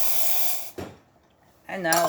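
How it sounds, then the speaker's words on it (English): A Zacconi Riviera espresso machine's steam wand hisses out a loud burst of steam, cuts off briefly, then hisses again, and a person speaks over the second burst. "quite a lot of steam coming out of this machine"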